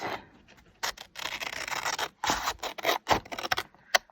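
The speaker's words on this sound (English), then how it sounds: "I'm just going to take my scissors and follow along the edges here of the cards" Scissors cut through paper cards along their edges in short bursts of close, crisp snipping and rasping, with brief pauses between strokes and no talk.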